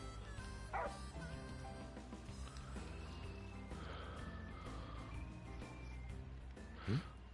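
In Final Fantasy XV, a dog named Umbra gives a short bark early on and another sharper yelp near the end, both over continuous game music and background sound.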